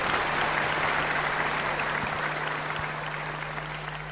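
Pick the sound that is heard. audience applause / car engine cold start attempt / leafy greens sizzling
audience applause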